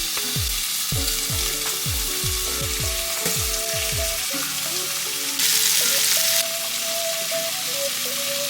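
Shrimp for shrimp scampi frying in a hot pan make a steady, close sizzle that runs the whole time, with gliding melodic tones layered over it and no talking.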